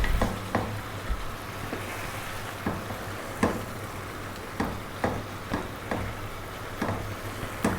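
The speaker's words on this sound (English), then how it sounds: "now I'm going to use 2 spoons and just throw this around, give it a nice little mix." Cabbage being tossed and stirred with two spoons in a hot pan, giving a steady low sizzle broken by a series of sharp clinks and scrapes at irregular intervals, close up with no talk.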